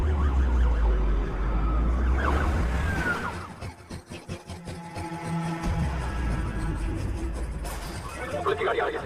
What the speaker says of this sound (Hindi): पुलिस की गाड़ी आ रही है, जल्दी जल्दी।